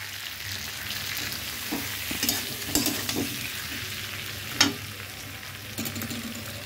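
Prawns sizzle in hot oil in a frying pan with cumin powder, a steady fry hiss broken by scraping and clinking stirs of a spatula, close and without talk.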